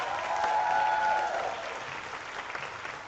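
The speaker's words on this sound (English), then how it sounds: "can we please give a round of applause for" An audience at a youth pitch competition claps in a dense, sustained round of applause, loudest early and gradually tapering, with a faint voice briefly audible beneath it.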